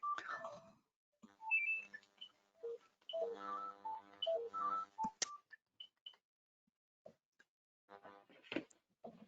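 A mobile phone rings during a recording, a quiet melodic ringtone of bright electronic tones in irregular bursts with short gaps between them.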